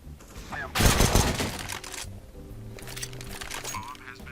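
A rapid burst of gunfire in CS:GO erupts sharply, then trails into quieter in-game rattles and thuds, with a faint voice audible in the background.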